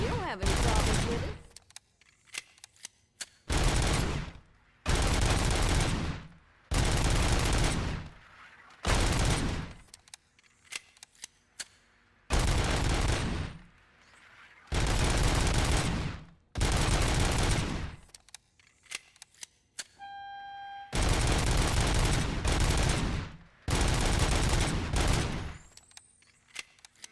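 Repeated bursts of rapid gunfire from a service weapon in the Robocop Rogue City video game, loud and close, fired in about a dozen sustained volleys separated by short pauses.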